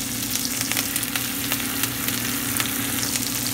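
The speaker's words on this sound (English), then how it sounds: "then while that's all sauteing, just like so" Chicken pieces and fresh thyme sauté in a hot skillet, producing a loud, dense, continuous sizzle with faint crackles and a steady low hum, no voices.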